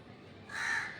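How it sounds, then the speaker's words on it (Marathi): A single harsh crow caw rings out in the second half, moderately close, after a brief quiet moment. "काव काव काव काव करते आहे ना"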